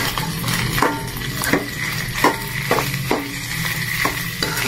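Food frying and sizzling in a pan as it browns, a continuous close hiss broken by regular clinks and scrapes of a utensil stirring against the pan.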